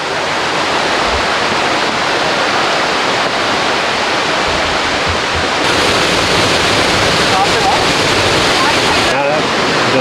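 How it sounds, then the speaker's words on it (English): A waterfall at Cloudland Canyon State Park roars in a dense, continuous rush, loud and close, holding steady throughout with wind buffeting the microphone. "Great waterfalls though, they really are."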